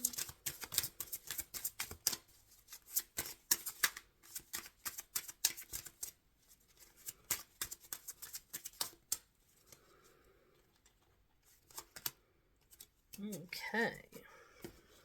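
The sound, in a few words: shuffling tarot cards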